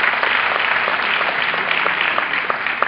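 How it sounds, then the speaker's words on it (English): An audience at a university tribute event applauds in a steady, even wash of clapping that carries through the whole moment without a break. "Round of applause for yourself."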